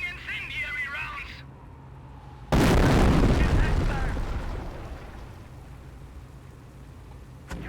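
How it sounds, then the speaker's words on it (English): An incendiary artillery barrage in Company of Heroes lands with a sudden loud blast that rumbles and fades over several seconds, following brief radio-style chatter, with another faint impact near the end. "Continue to barrage the enemy squad until they are defeated. Jawohl! Incendiary rounds on their way!"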